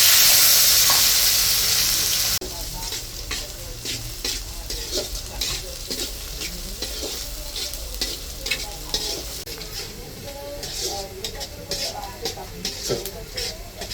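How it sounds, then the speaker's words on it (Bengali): Onions fry in a pan with cumin, cardamom and chilli, sizzling steadily while a utensil stirs and scrapes, the crackle loud and close after an initial burst of hiss. "হয় না পেঁয়াজটা ভাজা?"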